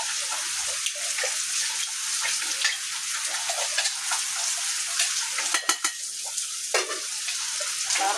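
Water is poured and stirred into a dried-prawn theeyal curry as it cooks in a pan, with a steady close sizzle and scraping that runs throughout and no talking.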